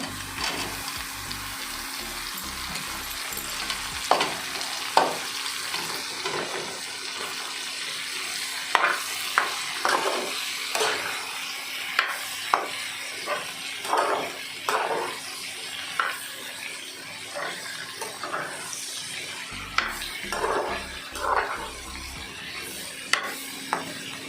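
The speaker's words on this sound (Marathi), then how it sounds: "आता मी न्ही ह्याच्यात ही जी भेंडी चिरलेली आसा ती घालूया" Okra and half-fried potatoes stir-fry in a pan for a Goan bhaji, a steady sizzle broken by repeated scraping strokes of a spatula against the metal, close and clear with no talking.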